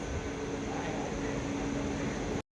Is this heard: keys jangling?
no